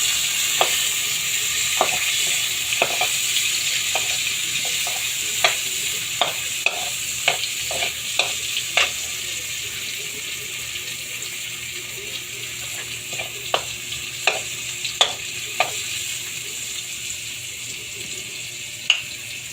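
Ginger and garlic sautéing in oil for sweet and sour tilapia, a constant loud sizzle nearby with many sharp clicks and scrapes of a spatula stirring the pan, no talking.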